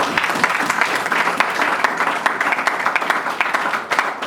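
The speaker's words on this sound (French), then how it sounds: "On acclame pour Jésus." A church congregation applauds for Jesus during a worship service about miracles, the clapping dense and sustained throughout, a steady wash of many hands close by with no talk over it.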